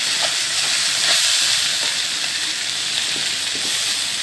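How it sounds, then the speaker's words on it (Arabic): Rice sautéing in ghee and oil with black pepper and salt gives off a loud, steady, close sizzle and hiss that holds evenly throughout, with no voices. "نشوح الرز كده بالسمنه والزيت والفلفل الاسود والملح كده كده شوحناه"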